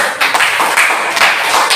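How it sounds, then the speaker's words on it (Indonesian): A classroom group giving applause, a brief burst of dense, close clapping with sharp overlapping taps. "beri tepuk tangan dulu"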